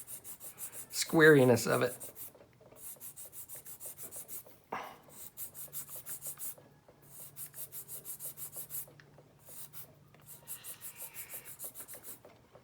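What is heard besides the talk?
sanding a plastic model part down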